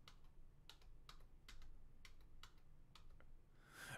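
Soft, close computer keyboard typing with individual keys tapped at a steady, unhurried pace, about a dozen distinct clicks with no talking.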